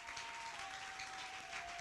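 A church congregation claps and cheers for Jesus during a deliverance service, a dense, sustained wash of applause from many hands with a steady tone held underneath, no speech.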